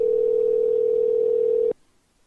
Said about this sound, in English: Let's get Nnedi on the phone.